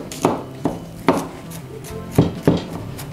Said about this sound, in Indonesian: Kita mau keprek bawang putih dan dicincang sampai halus.